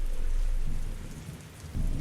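Steady rain pours down in a dense, continuous hiss, with a low rumble of thunder swelling near the end; no voices.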